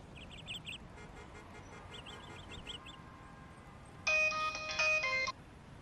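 A phone ringtone in an Assamese comedy sketch: bright electronic melodic tones ring out loudly for about a second and a half, after earlier faint, chirpy beeping phrases.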